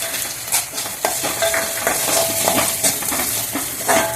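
Chana dal tipped into a hot tempering of green chilli, ginger and curry leaves crackles and sizzles as a spoon stirs it in quick repeated scrapes against the pan, close and lively.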